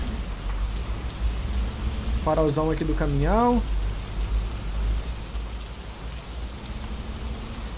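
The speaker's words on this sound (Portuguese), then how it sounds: "Vamos ver como que é a noite chuvosa aqui do jogo" Rain falls at night in Truck Simulator Europe 3 on Android, a steady hiss of downpour with distant rumbling throughout, while someone talks briefly in the middle.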